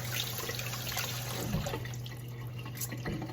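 Steady running tap water pours into a kitchen sink during a rinse while fermenting cabbage, a continuous close hiss and splash with a faint low hum beneath and no talking.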